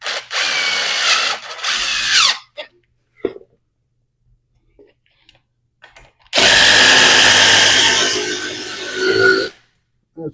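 A power drill drives a screw into fireplace woodwork during a custom fireplace makeover, whirring loudly and close in two long bursts separated by a few seconds of quiet with faint handling clicks.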